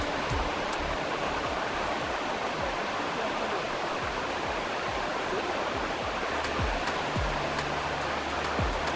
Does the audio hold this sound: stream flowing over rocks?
yes